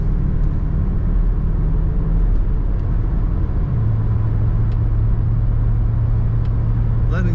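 A 1991 Lincoln Mk VII LSC with automatic transmission accelerating on the road, its engine drone rising to a steady higher pitch under loud, continuous road and cabin rumble.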